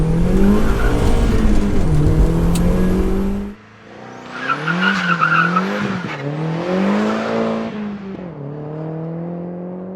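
A tuned Volkswagen Jetta or Golf GTI launches hard in a 0-60 sprint, its engine revving loud and near with tires spinning and squealing, then the note drops and climbs again through further bursts of wheelspin.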